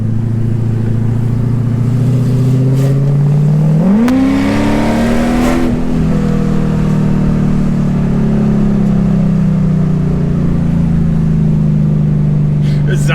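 A Mercedes E55 AMG with its exhaust cutouts open, droning loudly, then swelling into a rising, rasping rev during a short pull before settling back to a deep, steady exhaust note.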